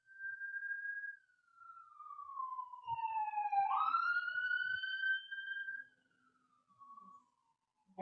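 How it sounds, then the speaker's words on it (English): A distant siren wails outside, its pitch sliding down and back up in long sweeps, faint against an otherwise quiet room. "Had some sirens outside."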